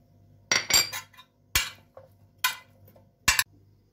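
Potatoes are tossed with oil, thyme and other spices in a bowl, giving several sharp clinks and scrapes of a utensil against the bowl in uneven strokes, close and otherwise quiet.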